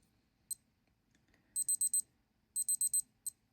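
A Casio G-Shock G-2300 digital watch's timer alarm beeps alone in a quiet room: one short chirp, then two fast runs of four rapid high beeps, each run followed by a single extra chirp.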